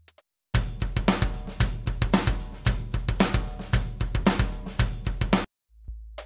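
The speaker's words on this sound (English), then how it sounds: "For this tutorial, I have created a short song out of this loop, which is live recorded drums." A live-recorded acoustic drum kit plays a steady groove loop with punchy kick and snare hits and bright cymbals, loud and close, ending abruptly.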